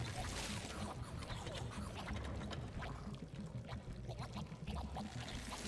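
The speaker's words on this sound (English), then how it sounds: "then we want to water this plant" Water pours and splashes as a plant is watered in the video game Phogs, a continuous gurgling stream with small clicks and bubbly game effects at a fairly quiet level.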